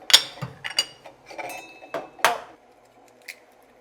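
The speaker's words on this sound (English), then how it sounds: "Now I'm gonna crack the eggs in" Eggs are cracked one at a time against the edge of a bowl for pork egg foo young, heard as a quick series of sharp, close taps and clinks that trail off into near silence.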